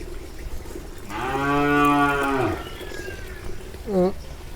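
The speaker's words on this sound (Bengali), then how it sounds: "তো এদের আমার গরু" A cow lets out one long, loud, close moo that rises and then falls away, followed by a shorter, fainter second call.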